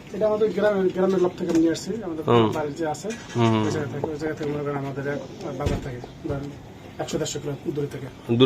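Racing pigeons kept by a breeder coo in low repeated throaty calls close by, mixed with a man's conversation throughout.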